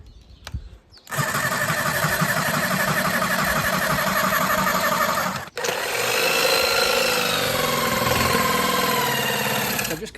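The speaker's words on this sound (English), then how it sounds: "I'm going to take the jigsaw and then we're going to cut around the template." A jigsaw cuts around a template on a K9 robot-dog build: a loud, steady, buzzing motor with a rapid reciprocating blade that starts abruptly, runs continuously, pauses briefly midway, then resumes.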